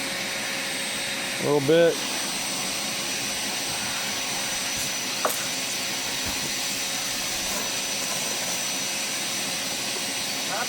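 A vacuum cleaner runs continuously inside a 1995 Mercedes E300 during interior cleaning, a loud steady whooshing drone throughout, with a brief rattling suck of debris and a short spoken remark.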